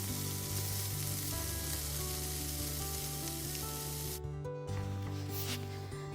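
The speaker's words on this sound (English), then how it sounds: "Turn on medium heat and put the spam into a flat pan." Spam slices frying in a flat pan over medium heat, a steady close sizzling hiss throughout with background music and a brief dip near the end.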